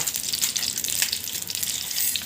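Cumin, coriander and fenugreek seeds sizzle steadily in hot oil in a pan, a continuous crackling hiss, close and fairly loud, while spices are being fried for a spicy village-style okra pickle.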